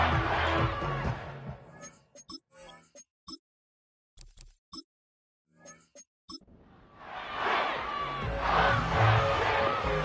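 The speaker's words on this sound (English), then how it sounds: "the crowd rising to make this even more difficult" Stadium crowd in the Madden 25 video game during a late two-point try, a loud roar that fades into near silence with scattered short sounds, then swells back into broad cheering.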